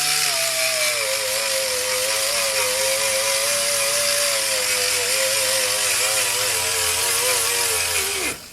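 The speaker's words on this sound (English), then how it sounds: "I'm gonna try to use just this little abrasive wheel." A small abrasive wheel on a rotary tool smoothing the port of a K24 intake manifold, giving a loud, steady high-pitched whine with a grinding rasp that holds for about eight seconds before spinning down at the end.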